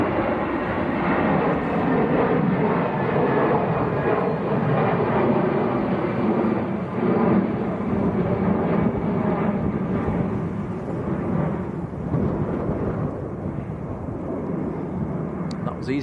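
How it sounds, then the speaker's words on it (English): An EasyJet Airbus A320 departs Manchester Airport on a windy day, its engine roar a broad, steady rumble lasting throughout, with chatting voices underneath. "That was EasyJet to Paris Charles de Gaulle. Airbus A320."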